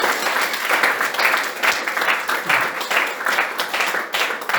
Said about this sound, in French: Applaudissons pour le riff du Seigneur.